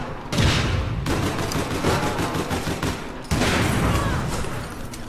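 Sustained automatic gunfire in the online shooter game APB Reloaded, loud dense bursts that stop briefly and then resume at full intensity.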